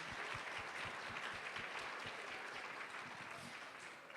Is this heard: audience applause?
yes